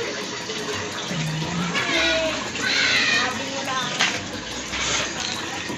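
Strong water gushing from a faucet into an automatic washing machine tub, a steady loud rush filling the whole clip, with children's voices and other household sounds mixed in.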